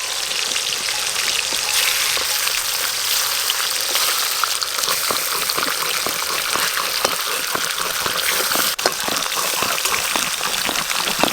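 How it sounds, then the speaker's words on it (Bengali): Golden rohu fish fries in hot oil with a loud, dense, continuous crackle and sizzle close by. Fast popping spatters run throughout, and there is no talking. "গোল্ডেন রুইটা আগে ভেজে নেব, তারপর চিংড়ি মাছ ভাজবো।"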